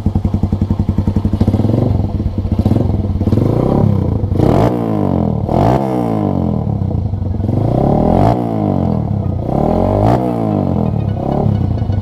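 A motorcycle fitted with a new stainless steel exhaust revs repeatedly, loud throaty engine rising and falling in several blips, with clattering mechanical noise close by.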